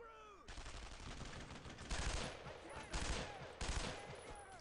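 Rapid video-game gunfire fired from below at enemies positioned above, loud bursts of shots in clustered volleys with three heavier peaks, continuing steadily without talk.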